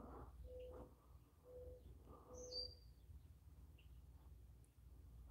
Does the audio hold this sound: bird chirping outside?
yes